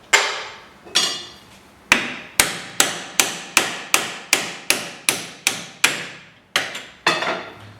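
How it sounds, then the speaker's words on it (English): A small hammer taps a serrated bolt on the control arm of a Chevy HHR, striking about sixteen sharp, ringing metallic blows in a steady rhythm with a brief pause partway through, loud and close. "I just typically take a little tapper."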